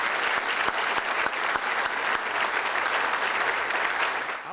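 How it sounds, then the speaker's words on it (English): Dense, steady applause from an audience at the opening of a university production technologies building, a loud continuous wash of many hands clapping with a few sharper claps standing out, no speech over it. "Let's give the faculty, staff, and students a great round of applause for what they're doing."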